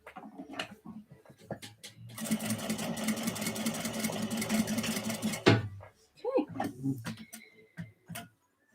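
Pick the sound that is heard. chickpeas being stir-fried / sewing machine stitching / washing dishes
sewing machine stitching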